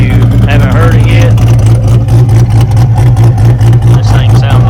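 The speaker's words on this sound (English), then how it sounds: "there's a video of it idling if you haven't heard it yet." A Chevrolet Corvette C8 idles close by, its loud, steady low rumble holding even throughout with a faint higher whine riding on top.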